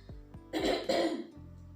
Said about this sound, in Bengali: দেখতে পাচ্ছেন অনেকটা কাশি হয়েছে